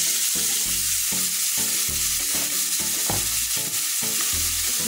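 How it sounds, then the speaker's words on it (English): Finely chopped onion sizzles in hot oil in a frying pan for drumstick-leaf rice, a loud, constant crackling hiss close up, broken by rhythmic stirring scrapes roughly every half second, without speech. "To this, I'm going to add some finely chopped onion."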